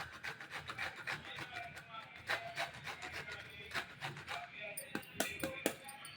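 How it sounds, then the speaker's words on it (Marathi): Coconut is grated over freshly cooked poha with a rhythmic, close rasping scrape, each stroke short and repeated quickly, while a person speaks quietly. "असं खोबरं किसून टाकायचं"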